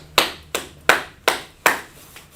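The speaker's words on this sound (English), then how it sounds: "Clap it up for that brother right there." One person's hands clap for a student in a classroom: five sharp, separate claps at a steady, unhurried pace, close and clear with nothing else heard.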